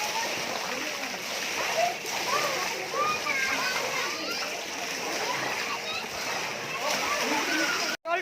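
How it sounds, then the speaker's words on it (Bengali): Water splashing and sloshing as two people get in to swim, a steady wet churn with scattered splashes, overlaid by children's and adults' voices chattering nearby. "ওরা দুজন সুইমিংয়ে নামছে, দুইজন সুইমিং করছে"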